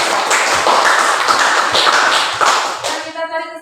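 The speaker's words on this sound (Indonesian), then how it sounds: "Tepuk tangan untuk Amel dulu." Classroom of students clapping for a classmate, steady brisk hand claps at close range that thin out toward the end as a voice begins speaking.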